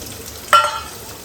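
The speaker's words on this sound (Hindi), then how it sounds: "इसके साथ ही मैं प्याज शामिल कर दूँगी।" Chopped onion dropped into hot oil with cumin and nigella seeds, a sudden loud sizzle burst that fades over half a second into a steady faint fry, with no voices.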